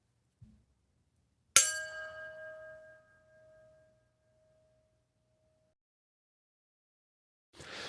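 A small hand bell strikes once with a bright clang, then rings on as a clear sustained tone that fades over a few seconds in a quiet room, with a short soft knock before it and noise at the end.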